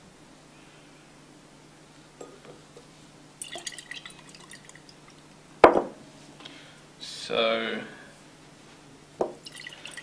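Drops of acid fall into a titration flask during a chemistry demonstration, a few soft isolated drips and small splashes with one sharper tap, spaced irregularly against a quiet room where a person says a word.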